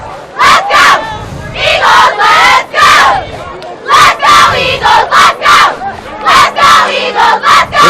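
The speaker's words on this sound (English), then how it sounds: "A nice roar and a nice crowd again on hand here tonight in Winslow Township" A large crowd at a high school football game in Winslow Township, Atco, New Jersey, roars loudly in a rhythm of repeated, chant-like bursts separated by short dips, close and forceful.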